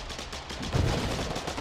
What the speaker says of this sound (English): Everyone just shoot it.